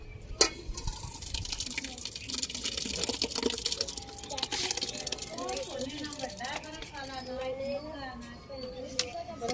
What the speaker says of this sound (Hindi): इसमें पानी डाल